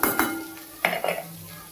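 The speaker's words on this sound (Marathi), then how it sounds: "आता बघा झाकण काढलेलं आहे" A cooking pan of bitter gourd sabzi with peanuts has its lid lifted off: a few close metallic clanks and scrapes, two quick ones at the start and another pair a moment later, each fading into a faint ringing.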